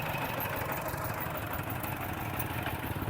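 A farm tractor, used as village transport, idles at a market in Atsaphone, Savannakhet, Laos, with a steady, continuous low engine rumble and a busy outdoor background.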